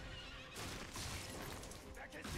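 A horse whinnies in the action game Stranger of Paradise, a loud burst of neighing that rises over dense game noise and clatter for about two seconds, with a voice talking over it.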